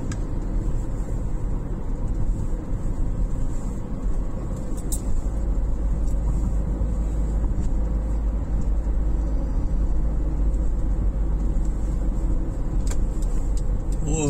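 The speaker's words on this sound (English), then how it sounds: "Bus, city bus over there" City bus driving past on a street, a steady low engine rumble and road noise that swells, holding loud and continuous throughout with no talking.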